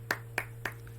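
Three sharp hand claps spaced about a quarter second apart, close and distinct over a steady electrical hum, welcoming a speaker in an online meeting.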